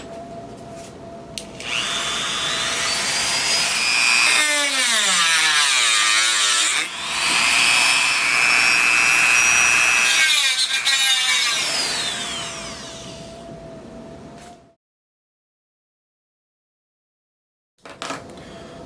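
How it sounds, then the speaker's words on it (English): A Dremel rotary tool grinds bedding material off an M14 rifle stock, a loud high-pitched whine with shifting pitch as the load changes, running about fifteen seconds before stopping, then a brief restart. "we're just going to get a Dremel and we're going to grind off all this material"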